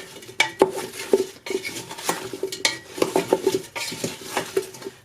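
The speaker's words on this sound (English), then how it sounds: "So we're going to coat the potatoes so they're all coated with the spices." Utensil stirring potatoes with spices in a bowl, an irregular run of clinks, scrapes and taps against the bowl, close and fairly loud, with no voices.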